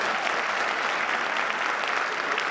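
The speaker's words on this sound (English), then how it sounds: "Big hand of applause." Crowd applause at a mayoral inauguration ceremony for Lawrence city government, a continuous wash of many hands clapping at moderate level with no voices standing out.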